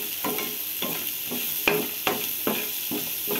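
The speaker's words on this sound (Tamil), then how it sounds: "வெங்காயம் பூண்டெல்லாம் வதங்கிருச்சு." Onion and garlic sautéing in an oiled pan for tomato thokku, a steady close sizzle broken by regular scraping stirs of a spatula against the pan.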